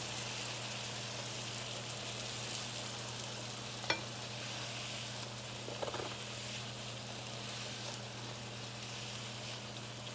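Frybread dough fries in oil in a pan with a soft, continuous hiss, faint and even throughout, marked by a couple of small clicks from handling.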